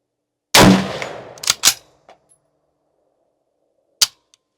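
Gunshots from a Troy SAR straight-pull AR-15 rifle at an outdoor range: a loud, sharp first report with a long decaying tail, then two quicker cracks, a small click, and one more sharp shot after a pause.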